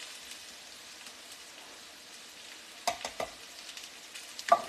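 A spoon scrapes and stirs evaporated Milnot milk into cooked flour in a pan, a steady soft sizzle underneath with a few sharper clinks and scrapes toward the end.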